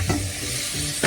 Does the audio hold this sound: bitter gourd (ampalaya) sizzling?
yes